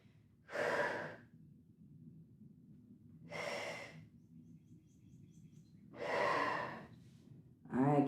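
Heavy breathing during a barre workout, with three loud, sharp breaths out at intervals of about three seconds over a steady low hum, each close and forceful.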